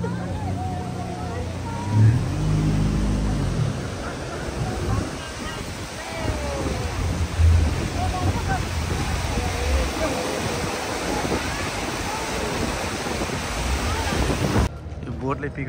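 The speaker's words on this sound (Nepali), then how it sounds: "ऊ त्यहाँ एउटा छाल छ ठुलो" Large waves churn on open water around a boat, a steady rushing surge with heavy wind buffeting the microphone, while people talk over it throughout.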